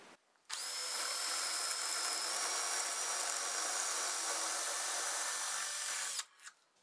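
A power drill with a 6 mm bit bores into a masonry wall during skirting board fitting, a steady, high, grinding whine that runs for about six seconds and then stops abruptly, with no talking.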